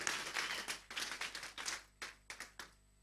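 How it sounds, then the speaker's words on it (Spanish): Church congregation clapping during a worship service, a run of sharp hand claps that loosens into scattered separate claps toward the end, fairly quiet and with no voices. "dele un fuerte aplauso al Señor"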